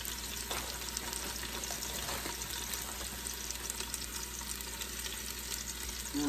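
Steak and mushroom bites sauté in olive oil inside an Instant Pot, a steady close sizzle and crackle with faint stirring scrapes and no talk.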